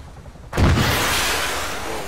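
Gunfire in a military video game set on Tanoa: a sharp loud burst erupts and then sustains as a dense, roaring wash of shooting and echo, with no talk over it.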